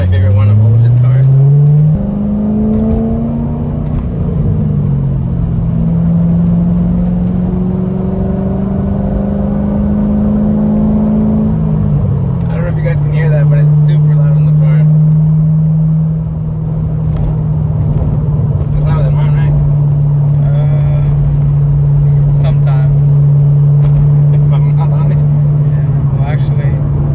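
A loud C6 Corvette engine revving close by, pitch climbing and holding through long pulls with rumbling exhaust and scattered crackles and pops, while people talk over it.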